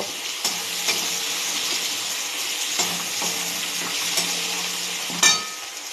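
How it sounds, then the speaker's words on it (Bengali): Ginger-garlic paste and tomato fry with onion and green chili in a pan, making a loud, continuous sizzle broken by a few sharp stirring clicks. "এবার এর মধ্যে আদা রসুন বাটা টমেটোটা দিয়ে দেব, দিয়ে এটাকেও একটুখানি ভেজে নেব"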